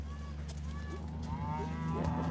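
Cows calling out for their morning feed on a farm, several moderately loud moos over a steady background hum, no speech.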